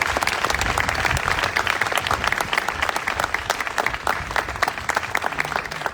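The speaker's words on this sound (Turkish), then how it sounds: "Yüksek bir alkış istiyorum." At a graduation ceremony, a crowd gives a loud, sustained round of applause, thick rapid clapping from many hands that stays strong and even throughout, with no voice above it.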